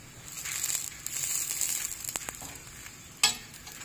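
A veg roll made without maida fries on a pan with ghee, giving a soft continuous sizzle and crackle with light scraping as it is flipped, ending in one louder clatter.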